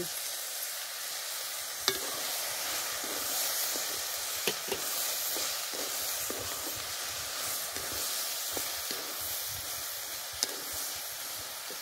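Green chillies frying in oil in a pan with turmeric added for a buttermilk chilli masala: a steady close sizzle and hiss, with occasional clinks and scrapes as the pan is stirred, no talking.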